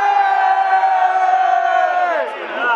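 A live audience shouts together in one sustained, loud, chanted cry for FIFA, holding the call for over two seconds before it dips and swells again.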